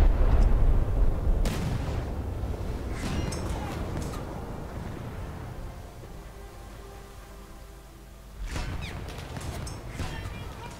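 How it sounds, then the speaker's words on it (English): The heavy cruiser RN Pola fires a salvo of high explosive shells in the naval battle game War Thunder: heavy booming blasts at the start and again later, with a rumbling low tail between them. "one lucky salvo of high explosive shells is usually enough to set enemy ship on fire"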